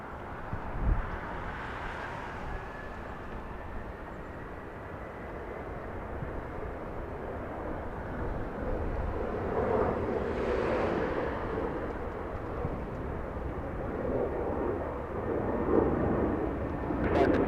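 A Delta heavy airliner taking off from runway 24 left at Los Angeles International Airport, a distant, broad rumbling roar that swells gradually and stays steady under wind noise, with no talk.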